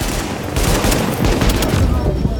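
A deployed turret fires in The Division, rapid loud bursts of automatic gunfire rattling continuously for a couple of seconds amid the noise of an ongoing firefight.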